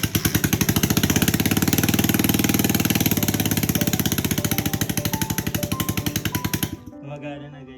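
A Honda TMX 125 motorcycle engine runs loud and close with a rapid, hammering exhaust pulse from an unfitted, noisy exhaust pipe, then cuts off abruptly near the end, leaving quiet background.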